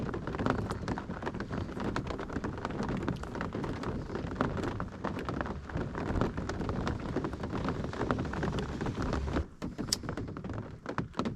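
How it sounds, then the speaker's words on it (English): Rain patters steadily on the shell of a Scamp travel trailer, a dense spread of soft taps and occasional louder knocks, heard alone at a quiet level. "Hopefully it'll stop raining soon."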